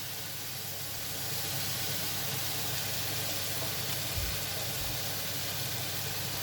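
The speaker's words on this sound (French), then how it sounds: "Là, on va faire chauffer une poêle pour nos maquereaux." A frying pan heats strongly for mackerel, giving off a continuous, even hiss with a low hum beneath it and no other sounds.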